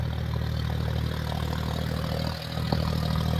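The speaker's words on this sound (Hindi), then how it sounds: "भाई साहब स्लिप मार मार चल रहा ट्रैक्टर, बहुत तगड़ा वाला स्लिप" A John Deere 5205 Power Plus tractor pulling a harrow runs at a steady, close diesel drone with a low engine hum and a brief dip, while its wheels slip.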